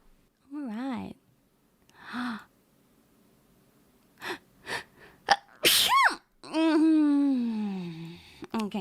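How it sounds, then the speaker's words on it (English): A woman sneezes several times in a row, each sharp burst set apart by short quiet pauses and soft breathy gasps, close and loud, with speech-like vocal sounds around the sneezes. "Okay, I think I'm done sneezing."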